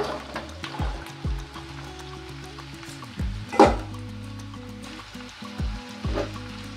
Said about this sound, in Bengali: এই পর্যায়ে আমি ভাজিটা দিয়ে দিচ্ছি।